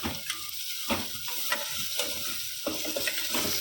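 Turmeric and coriander-cumin powder stirred into a sizzling pan for dal palak, with a constant frying hiss and rhythmic scraping strokes of a spoon, close and steady.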